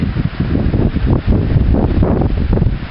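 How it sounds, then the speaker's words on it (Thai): Strong wind buffets the microphone on the Phu Ruea mountain summit at sunrise, producing a loud, gusting low roar that surges and dips unevenly. "ลมแรงดีนะ"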